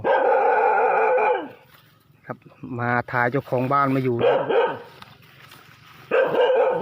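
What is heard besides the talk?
dog barking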